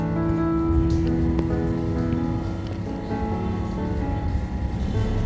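Dried red chillies sizzle in hot oil with onion and cumin in a home kitchen, a steady close crackling hiss that sounds like rain, with a faint tonal hum underneath and no talking.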